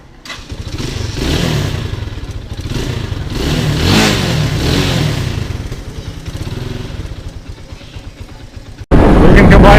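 A motorcycle in Metro Manila starts up and revs, its engine rising and falling loudly close by with a rider talking over it, ending in a sudden burst of louder noise.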